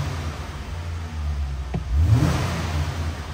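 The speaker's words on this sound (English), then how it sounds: "give a couple revs." A 2023 Ram 1500 Classic Warlock crew cab 4x4 pickup idles at low volume, then the engine revs up sharply near the middle and settles back down, heard close with no talking.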